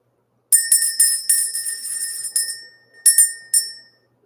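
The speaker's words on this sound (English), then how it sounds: "Let's ring the bell." A small bell is rung to clear energy, giving a rapid flurry of bright metallic strikes that shimmer and decay, then two separate rings after a short pause, close and clear with no talk.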